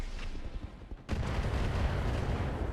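Mech weapons fire in the RogueTech battle game, a dense, loud burst of cannon and missile blasts that starts abruptly after a short quieter lead-in and rumbles on steadily to the end.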